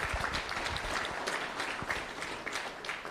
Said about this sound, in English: Give Lemene a round of applause